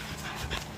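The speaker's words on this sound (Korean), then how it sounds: "우리 강아지가 지금 굉장히 흥분을 했어요." A mini Bichon dog, excited indoors, panting quickly and giving a soft whimper, close by, over a low background hum.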